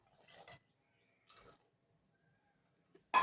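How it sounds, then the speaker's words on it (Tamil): Coconut milk splashes into a pot in short wet bursts: two soft pours, then a louder, fuller splash at the end. "தேங்காய் பால் எடுத்து வச்சுருக்கதை ஊற்றிக்குவோம்."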